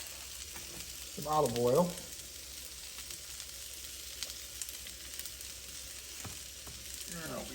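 Olive oil sizzles steadily on a Blackstone griddle powered by a 2023 Hyundai IONIQ 5, a constant close hiss with faint crackles, while someone speaks briefly near the start.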